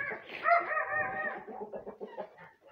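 Backyard hens cluck and squawk nearby at feeding time, starting with a drawn-out call that breaks into a string of short, choppy clucks.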